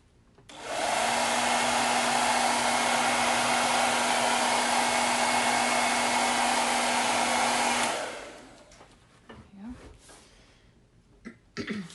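A heat blower warms paint on silk screens, a steady airy whoosh with a low hum running for about seven seconds before cutting off, followed by faint handling noises and a brief sniff.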